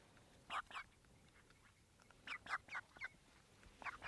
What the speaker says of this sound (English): Look, I'm gonna just pet my chickens.